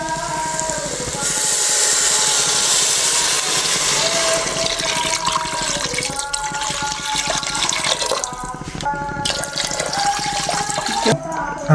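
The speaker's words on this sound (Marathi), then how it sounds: "चौघा जणांसाठी 2 तांबे पाणी टाकून घेऊ." Water pours steadily into a pot for rice biryani, two vessels' worth for four people, a loud continuous gushing stream that thins and splashes toward the end.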